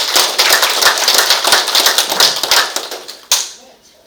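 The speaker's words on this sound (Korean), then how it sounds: "우리 다 수고하신 분들을 위해서 박수 한번 해주시기를 바랍니다." An audience at a talk on electrical safety in everyday life gives a round of applause, dense rapid clapping close and loud for about three seconds, ending in one last clap before it fades out.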